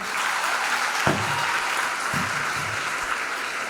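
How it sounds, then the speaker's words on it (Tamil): Sustained applause from an audience in a college hall during a debate event, a broad steady wash of clapping filling the whole clip with a couple of brief voice bursts underneath. "காவியாஸ்ரீ அவர்களை மீண்டும் ஒரு முறை இந்த சபை கைத்தட்டி பாராட்ட கடமைப்பட்டிருக்கிறது."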